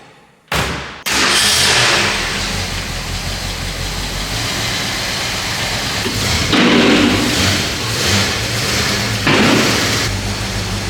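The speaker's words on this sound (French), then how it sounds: "T'as remarqué qu'elle fait pas beaucoup de bruit la voiture." A restored 1966 Ford Mustang idles steadily up close as it is driven onto a car lift, a low, even engine rumble that holds for about ten seconds after an abrupt start, with a few soft thumps and swells along the way.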